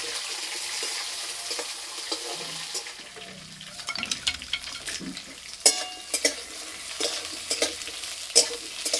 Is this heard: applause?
no